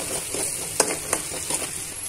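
Dal being stirred in hot oil with a little salt in a kitchen pan, a soft steady sizzle with a few scraping spoon strokes, close and fairly quiet, no talking.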